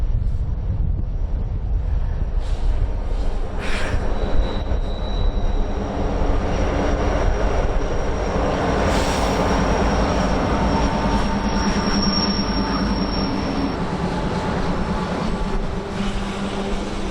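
A Union Pacific train of empty Trinity rapid discharge hoppers on snowy Donner Pass, a continuous low rumble and rolling clatter heavily mixed with wind buffeting the microphone, with faint high squeals.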